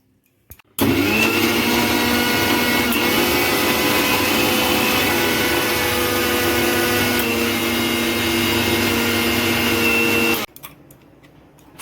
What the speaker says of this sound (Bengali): মিক্সিতে ধনেপাতা, পুদিনা পাতা, লঙ্কা, রসুন দিয়ে দিলাম।